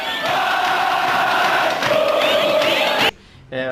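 Vasco fans celebrate in a packed football stadium with loud, massed chanting and cheering that rolls on steadily, then cuts off abruptly near the end.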